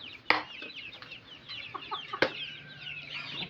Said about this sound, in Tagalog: Napakain muna ako ng manok.